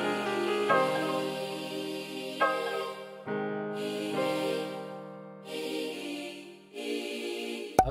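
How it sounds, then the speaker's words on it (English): Bell melody layered into an African trap beat made in FL Studio, ringing tones struck in phrases with long sustain and overlapping decays, loud and alone. "After that, I added this bell to make the beat a little bit impactful."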